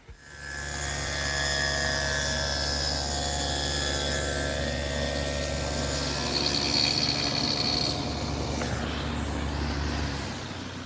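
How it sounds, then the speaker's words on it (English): A homemade panel cutter cross-cuts cherry wood panels with a loud, sustained saw whine that winds up, holds steady for several seconds and then spins down. "Cross-cutting my panels perfectly square is a cinch with my homemade panel cutter"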